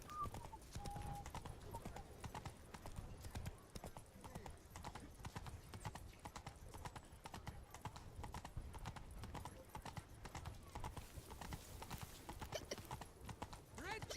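Hooves of Roach, a video-game horse, clip-clop in a steady unbroken rhythm through a long stretch, close and even, with faint voices and game ambience mixed beneath.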